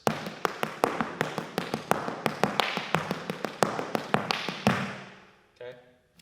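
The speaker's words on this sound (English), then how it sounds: "With the left foot in front, treble and toe, kick and down." Hard-shoe Irish dance steps (treble, toe, kick and down) tapped on a hard floor in a quick, even rhythm of sharp clicks and thuds, close and loud, ending with a brief pause and a few softer taps.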